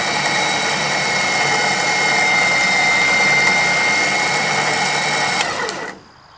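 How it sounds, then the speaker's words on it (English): A rear-mounted Badlands winch drags logs through the woods, its motor giving a loud, steady, high-pitched whine with dense harmonic hum for about five seconds. The whine then cuts off abruptly, leaving near silence. "I guess I shouldn't just lay on the winch, huh?"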